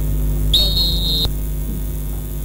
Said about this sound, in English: let's take the final whistle on the show this morning